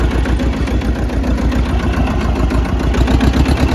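A tractor engine runs steadily and close by, a dense low rumble with a constant rhythmic chug throughout, loud and without talk.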